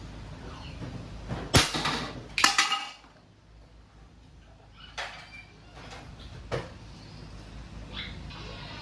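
Crosman 1322 variable pump airgun charged with four pumps fires at a target two meters away: a sharp close crack and a quick second clack, then a few fainter knocks in a quiet room.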